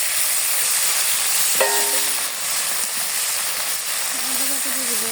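Water poured into a hot pan of onion and green chilli left after frying fish gives a steady, loud hissing sizzle throughout, with a brief tonal clink in the middle and a faint voice near the end.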